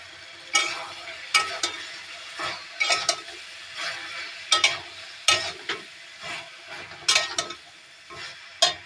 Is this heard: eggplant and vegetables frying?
yes